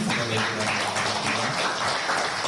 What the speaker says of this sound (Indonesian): terima kasih buat tepuk tangan